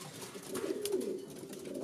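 Young pigeons coo softly, a brief, low, warbling murmur close by.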